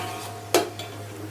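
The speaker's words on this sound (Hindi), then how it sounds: "अब इसमें मैं गोश्त डालूँगी।" Beef dropped into a hot pot of oil for beef yakhni pulao: a single sharp sizzling burst as the meat lands, tapering off quickly into a low steady simmer with a faint clink of utensils.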